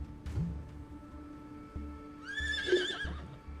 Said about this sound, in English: Whoa! I'm on a horse.